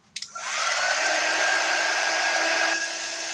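A hair dryer blows on a Dollar Tree Christmas ornament, switching on with a couple of quick pops and then holding a loud, steady whoosh with a whine, close by.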